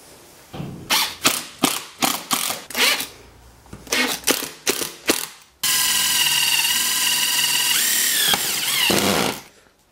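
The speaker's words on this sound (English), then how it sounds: "I will put that on there and screw it to the back." A power driver drives screws into the back of a wooden shooting board: a string of short rhythmic ratcheting bursts, a pause, then a long steady whirring run that stops abruptly.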